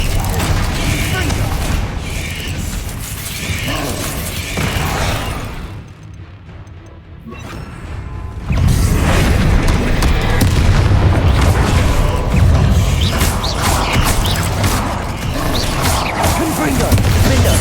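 Bombarda explosion spells in Hogwarts Legacy combat, loud booming blasts and rumbling impacts that drop to a brief lull and then resume as a heavy, sustained barrage, with voices calling out spells.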